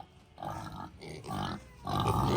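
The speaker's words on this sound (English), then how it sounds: "I hear all the pigs" A crowd of many pigs grunting in short, rough bursts, close by and fairly loud, with the clamor swelling over about two seconds.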